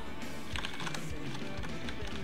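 Rapid typing on a MEKA G1 PRIME Team Edition mechanical keyboard connected over PS2: dense, steady key clicks and clacks fill the whole stretch, close and clear, with no talking.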